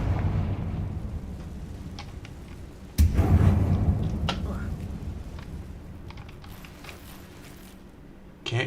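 Blasting-curse explosion in the Hogwarts Legacy video game, a single sudden burst that hits loud and decays over several seconds amid mechanical game sounds, with a second smaller impact near the end.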